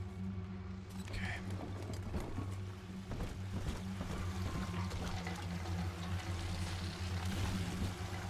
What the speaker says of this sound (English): The sound of the water hitting the metal.